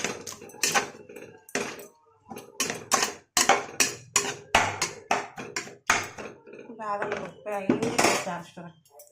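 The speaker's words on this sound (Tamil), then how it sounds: "இப்போ கிண்டி விட்டுக்கலாம்" A metal spoon stirs vegetable biryani masala in a pot, producing repeated rhythmic clanks and scrapes against the metal, loud and close, with a voice briefly speaking near the end.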